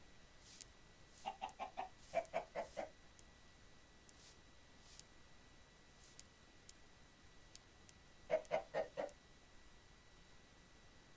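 Chickens in the video game Minecraft cluck in two short bursts of rapid, clipped notes separated by a quiet stretch, faint and close with light ticking in the background.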